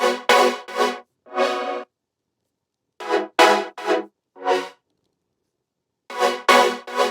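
High wavetable synth layer for a drop, playing short bright stabbed chords in three grouped bursts of about three or four hits, separated by silent gaps, loud and with no voice.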